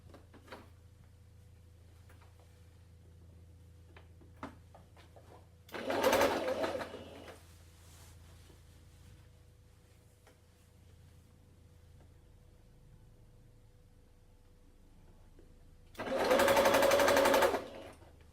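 Sewing machine stitching Ankara fabric strips in two short loud bursts of rapid whirring, separated by a long quiet stretch with faint handling clicks and a low background hum.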